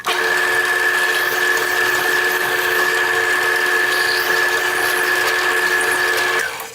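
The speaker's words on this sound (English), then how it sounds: "I've used a standard drill bit for this operation because it'll easily index itself in the hole from the tip of the spade bit" A drill with a standard bit bores pilot holes into wood for garden obelisk trellis legs, a steady close whine held for several seconds, no talk.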